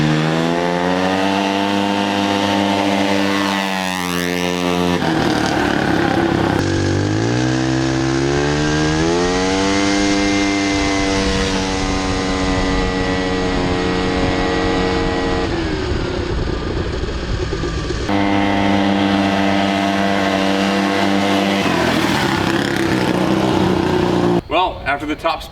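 A rotary-engine-powered ATV revs hard and loud throughout, its buzzing engine note rising and falling as it accelerates and shifts, with a brief drop near the end.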